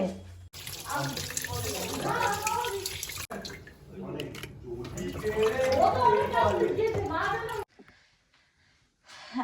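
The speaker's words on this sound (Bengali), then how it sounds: "এবারে মাছগুলো ধুয়ে নেব।" Fish is washed under a running tap, with a steady rush of water splashing in a sink over several seconds while people talk, and the flow cuts off abruptly near the end.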